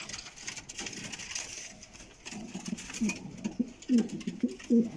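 Racing homing pigeons coo softly on a rooftop, several low throaty calls in the second half over quiet outdoor background and light fluttering.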